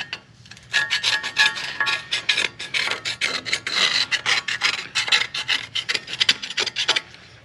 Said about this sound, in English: So I'm just going to take a screwdriver and make sure we get all the thick stuff out.